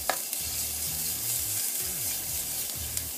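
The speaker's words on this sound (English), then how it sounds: "I'm gonna go ahead and add just a little bit of oil to my pan here. Add my garlic to my oil." Garlic frying in a little oil in a pan gives a steady, close sizzle, stirred now and then with soft scraping and a couple of light taps.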